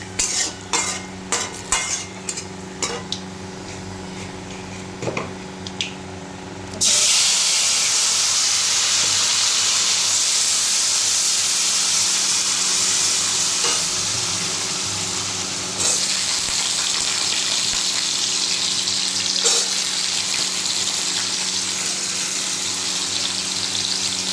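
Dry red chili and nigella seeds hit hot oil in a pan, giving a sudden loud, steady sizzle that carries on after a few earlier stirring clinks and taps.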